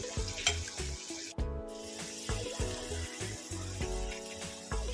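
Crushed garlic and ginger sizzle with onion in a cooking pot, a steady close frying hiss broken by clinks and stirring knocks, with no talking.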